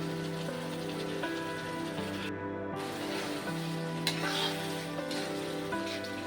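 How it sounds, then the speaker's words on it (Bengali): Spice paste with Kashmiri chilli powder frying in a pan on medium heat for mourola fish bati chorchori, a steady sizzle with occasional stirring scrapes beneath a continuous background music bed. "মশলাটা খুব ভালো করে কষাবো মাঝারি আঁচে।"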